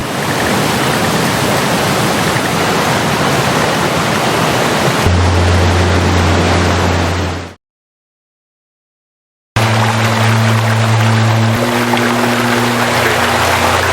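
River flowing beside a forest campsite near a remote mountain, a loud, steady broadband rush of water that cuts out briefly and returns with a low hum beneath, no voices.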